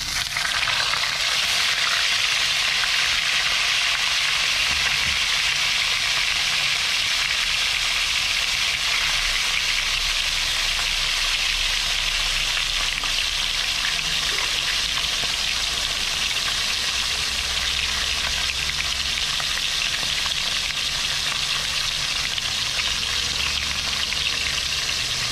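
Tilapia frying in hot oil, a steady loud sizzle and crackle that runs unbroken throughout, with no voices.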